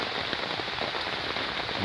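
Heavy rain pours steadily and loudly onto a surface during a downpour on a road trip in Brazil, a dense unbroken hiss with no voices.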